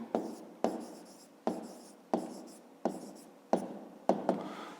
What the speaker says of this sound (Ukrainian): Пишемо кут АБК.